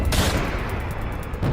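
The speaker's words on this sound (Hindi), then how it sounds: "गोली मार दी" Gunfire sound effect from an animated horror story about an Independence Day fireworks incident: loud, harsh blasts at the start and end with a dense crackling roar between them.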